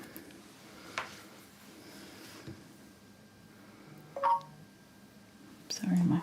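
A mobile phone chimes with a notification, two short bright electronic tones spaced apart, the second followed by a low buzz, heard over quiet background during an acrylic painting session.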